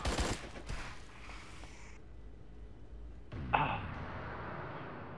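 Video game gunfire in Attack of the Humans: a loud opening burst of rapid shots, then a quieter stretch and a second sharp blast with ringing near the end.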